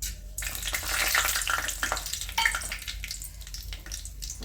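Whole spices crackling in hot oil in a pan for chicken biryani, a loud, close, continuous hiss with irregular sharp pops throughout.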